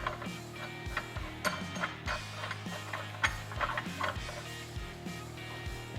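A primary clutch puller is threaded into the primary clutch of a Polaris RZR XP Turbo, producing a steady series of close metallic ratcheting clicks with a rhythmic mechanical whir throughout.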